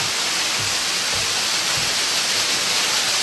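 Loud waterfall in the Lost River gorge, a dense continuous roar of crashing water that fills the air, steady and close with no talking.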